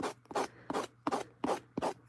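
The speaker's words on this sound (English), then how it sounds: "we will take our little sanding block" A sanding block rubs across a napkin-decoupage craft surface in five or six even back-and-forth strokes, close and distinct, with short pauses between strokes.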